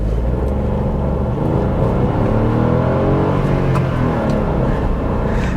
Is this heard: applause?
no